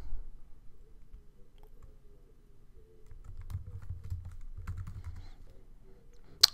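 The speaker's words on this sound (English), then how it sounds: "You type in your password." A password being typed on a Mac computer keyboard, soft close key taps in a short irregular run, with a sharp click at the end and otherwise quiet surroundings.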